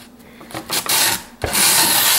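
Sandpaper rasping along the edges of skateboard grip tape, a few short scrubbing strokes followed by a longer, louder steady rub, close up with no talking.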